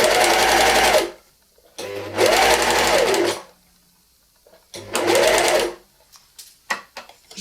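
An overlocker serger stitches a jersey neckline band in three loud, close bursts of rapid whirring, separated by pauses and ending with a few small clicks of handling.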